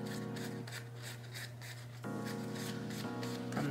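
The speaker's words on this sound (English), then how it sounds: "I am going to mute that a little bit by rubbing my fingers" Fingertips softly rubbing dye onto a sola wood flower tulip make a close, gentle, continuous friction sound over a steady low hum.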